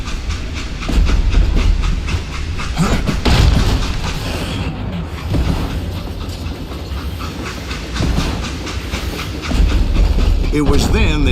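A train in the Wild West shooter Call of Juarez Gunslinger rumbles along with rhythmic clickety-clack, hissing steam and metallic clatter, loud and continuous, with a narrator's voice over it.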